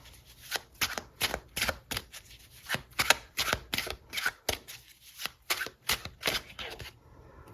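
Tarot cards are shuffled by hand in a quiet room, a steady series of about fifteen crisp riffling bursts in a regular rhythm, close and moderately loud with no talking.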